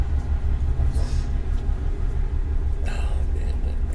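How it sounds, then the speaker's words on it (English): A passing train rumbles on in a loud, low, steady drone, with a couple of brief higher rattles or squeals rising over it. "Trains here."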